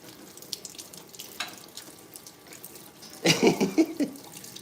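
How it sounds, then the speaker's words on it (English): Hands are washed under a kitchen sink faucet: quiet room noise, then a burst of running water splashing in the last second and a half, close and fairly loud. "Wash up. Clean hands in our kitchen."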